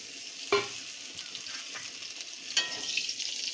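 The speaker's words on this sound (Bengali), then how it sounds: "ওই তেলের মধ্যে আমি পেঁপেগুলো লম্বা করে কেটে রাখা পেঁপেগুলো ভেজে নেব।" Long strips of papaya frying in oil left from fried fish, a quiet steady sizzle with a couple of louder stirring clinks, no one speaking.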